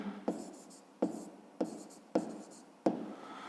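Handwriting on paper, with five distinct scratchy pen strokes or taps at uneven intervals, each followed by a brief soft scraping, close and quiet.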